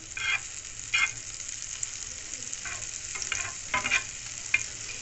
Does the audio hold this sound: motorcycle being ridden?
no